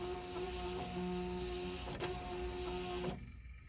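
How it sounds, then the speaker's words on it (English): A Zebra ZT610 label printer runs a media and ribbon calibration, a steady mechanical whir with constant tonal hums that stops abruptly near the end, leaving faint room noise. "calibrating how much light is making it through the ribbon, the label, and the wax paper now"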